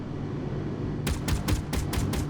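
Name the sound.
gunfire in a video game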